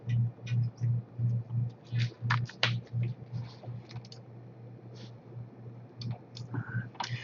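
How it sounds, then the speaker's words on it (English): Clicky Unicomp keyboard in the style of the IBM Model M, typed in quick bursts of crisp clacks over a steady low hum, close by. "Oh, my clicky keyboard"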